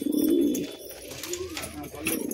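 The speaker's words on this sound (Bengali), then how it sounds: "দেখুন কত মস্তিওয়ালা পায়রা" Pigeons for sale, Kolkata high-flying breeds such as Kaldoma, Nafta and Kamagar, coo in low rolling phrases, loudest at the start, with a voice speaking over them.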